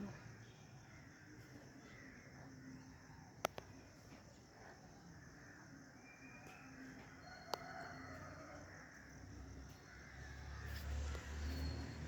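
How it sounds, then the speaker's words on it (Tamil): Small birds gather to roost in a tree in the evening, a busy low wash of chirps and calls under a noisy outdoor background, with a couple of sharp clicks and a rising rumble toward the end. "ஈவினிங் டைம்னால் மரத்து மேலே குருவியெல்லாம் வந்து அடையுது"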